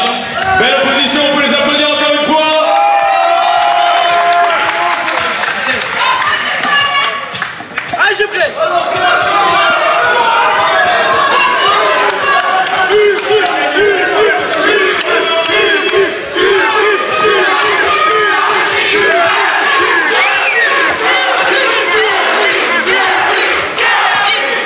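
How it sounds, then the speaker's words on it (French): A boxing match crowd applauds and cheers loudly in a packed venue, a dense continuous roar of shouts and clapping with an announcer speaking over it. "on peut les applaudir encore une fois"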